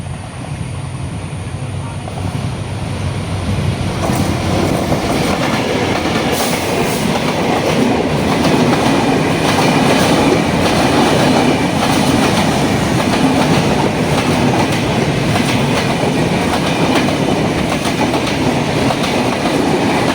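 A train rolls past a lowered level-crossing barrier on the road toward the Paturia ferry ghat, a loud sustained rumble with rhythmic clickety-clack of wheels that stays close and continuous throughout.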